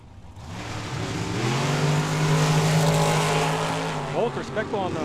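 A dragster roars down the strip at Tucson Dragway, its engine note climbing and swelling loud as it passes, then fading with crowd and track ambience.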